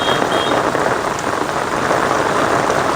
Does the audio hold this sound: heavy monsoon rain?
yes